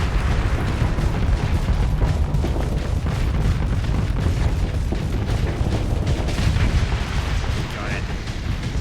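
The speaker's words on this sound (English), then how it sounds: "Oh, that's a big barrage coming through." Artillery barrage in the space combat game Starsector, a dense continuous rumble of overlapping booms and blasts, loud and sustained throughout.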